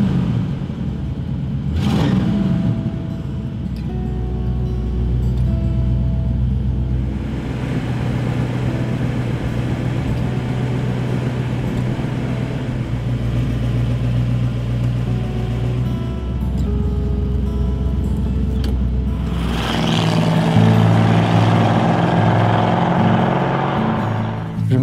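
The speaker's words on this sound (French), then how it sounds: "je roule en Mustang Fastback 1968" A 1968 Ford Mustang GT Fastback engine idles with a steady low rumble for a long stretch, then revs up louder near the end.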